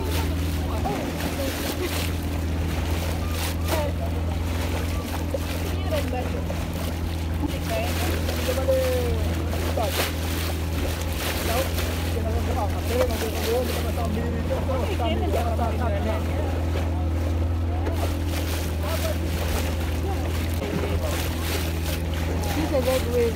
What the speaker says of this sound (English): So we have an hour boat ride to the marine park.